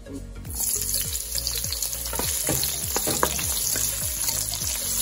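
Cooking oil sizzles and spatters in a pan as menudo begins with sautéing, a loud steady frying hiss with rhythmic scraping stirs, close up and without talk.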